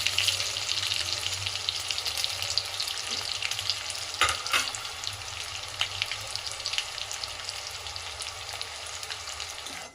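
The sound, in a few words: onion and garlic frying in pan for palak paneer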